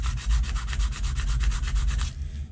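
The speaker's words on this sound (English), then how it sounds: "So now I can just finish hand sanding it exactly like I want." Hand sanding across wood and a patch of JB Weld on a wooden push pole with 120-grit sandpaper: steady, close, rhythmic back-and-forth rasping strokes, roughly a dozen in a row, then trailing off.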